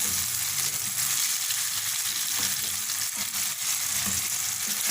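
Chicken koftas frying in hot oil, a steady, dense sizzle that continues without a break, close and fairly loud, with faint stirring and no voices.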